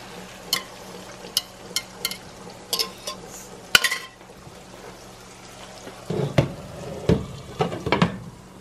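Eggs and ground beef cook in a pan with a steady sizzle, punctuated by clinks and scraping stirs of a utensil, sharper taps clustering toward the end, close and moderately loud with no talking.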